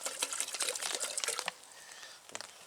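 About a litre of water pours and splashes steadily into a cooking pot at a campsite for over a second, then tapers off into a few faint drips and clinks.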